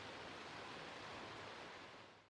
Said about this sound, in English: Can you hear the running water?